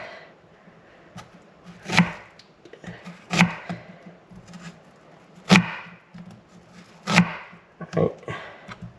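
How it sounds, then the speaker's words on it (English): A knife cuts half an onion on a cutting board in a home kitchen, making a few sharp, separate chops spaced a second or two apart, close up, while a person talks quietly. "We're just gonna cut it along the onion like this."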